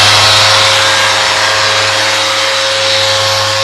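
A powered sanding pad runs continuously over a wood finish, giving a loud, steady whirring buzz with a constant tone and no talking over it.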